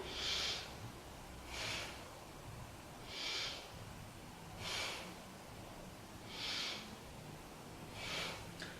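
Deep, even breaths taken during a yoga star pose, six soft airy inhale-exhale swells repeating about every one and a half seconds, close and quiet with no talking.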